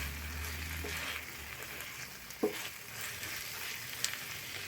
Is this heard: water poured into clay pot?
no